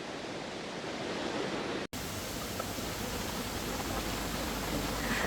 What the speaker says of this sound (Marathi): छान असा धबधबा पडतो आहे